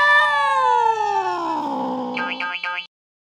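A cat meows in the Roblox Brookhaven game, giving one loud, drawn-out call that slides downward in pitch and ends in a quick warbling wobble before cutting off, with no voices over it.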